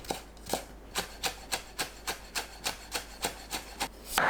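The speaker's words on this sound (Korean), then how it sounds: "청양고추와 홍고추는 씨 빼고 4-5cm 길이로 채 썰어 주세요" Knife julienning seeded cheongyang and red chili peppers on a cutting board, about a dozen evenly spaced crisp chops close by, with no talking.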